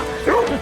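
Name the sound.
dogs barking happily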